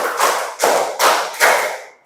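Classroom of children clapping hands in unison to a counted pattern: four strong, evenly timed group claps, each a slightly smeared burst from many hands, close and loud with no talking.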